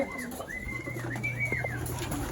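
A racing pigeon returning from a 139 km derby lap coos in soft, repeated rising-and-falling calls, close by, over a low steady hum.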